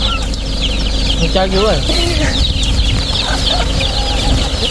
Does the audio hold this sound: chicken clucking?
yes